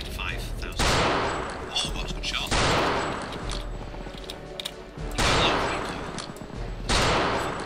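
Bursts of rifle and machine-gun fire rattle through a World War II video game battle in Normandy, arriving in loud volleys every couple of seconds over continuous background combat.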